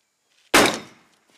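A single heavy impact as a body swings and twists into a door frame during a military breaching exercise, a sharp loud thud that decays over about half a second, alone with no talk.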